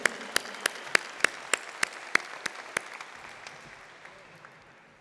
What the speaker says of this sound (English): Big, big applause.